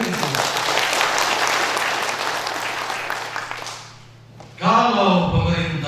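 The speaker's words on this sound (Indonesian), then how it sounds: "Tepuk tangan untuk itu." Audience at an installation ceremony of a Toraja family association in North Luwu applauds in a loud, dense round that fades out, followed by someone speaking into a microphone.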